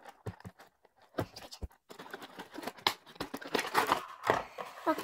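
A crinkly plastic wrapper on a Chrupciaki ice-cream-style snack is torn open close up, with sharp crackles and rustles that build into a dense crinkling burst.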